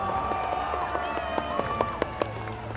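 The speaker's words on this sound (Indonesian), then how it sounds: "Berikan tepuk tangan yang meriah." Crowd applause at the 79th anniversary ceremony of the Indonesian armed forces (TNI), a steady patter of outdoor clapping with sharp claps on top, under sustained tonal music or announcements.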